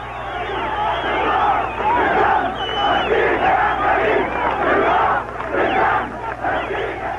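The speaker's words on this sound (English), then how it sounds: "As the crowd chanted a pledge to give their lives for liberty" Large crowd chanting a pledge in unison at a frenzied street welcome for a returning town mayor, loud rhythmic massed voices rising and falling in waves, with shouts over a steady low hum.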